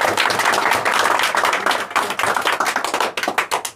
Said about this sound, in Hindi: मैं इस सफल छात्रा के लिए आपसे एक जोरदार ताली चाहूंगा।